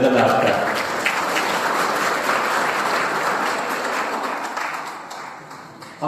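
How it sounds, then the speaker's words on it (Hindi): Audience applause at a political student gathering in Latehar, Jharkhand, a dense burst of clapping that holds steady then fades toward the end, with a voice heard over it. "जोरदार ताली बजा के अभिनंदन आपका।"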